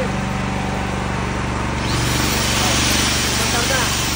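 A United Power combination welder and generator engine keeps running with a steady broadband drone that grows louder and rougher about halfway through, sounding close and continuous.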